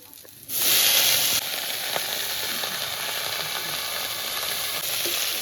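Eggplant hits hot oil in a pan at a home cooking session, with a sudden loud sizzle that settles into steady, close frying hiss with faint stirring ticks.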